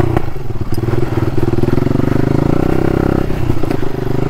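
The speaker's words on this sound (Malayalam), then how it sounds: "ആ പോപ്സ് ആൻഡ് ക്രാക്കൽസ് സീൻ" A Hero Impulse motorcycle with a non-stock engine, ridden for motocross, runs loud and close, its exhaust throbbing in rapid pulses with irregular pops and crackles through the whole stretch.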